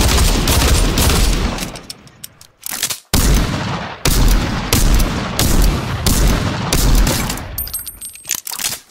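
Loud, rapid bursts of pistol gunfire in the video game Fortnite, dense volleys of shots with brief pauses between strings and a few metallic clinks near the end, no talk.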